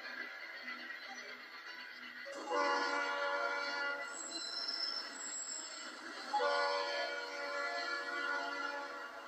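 A passenger train pulls out amid steady rail rumble, its horn sounding in long tonal blasts that swell twice, loud and fairly close, with no talking.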